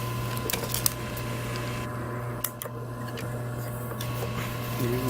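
A sewing machine stitches the seam of a car headrest, giving a steady, close mechanical whir with a constant low hum and a few faint clicks throughout.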